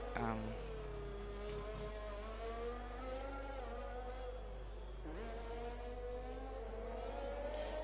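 Onboard a McLaren race car in a wet sim racing qualifying lap, the engine whines steadily and climbs and falls through gear changes, with a distinct drop and rise near the middle.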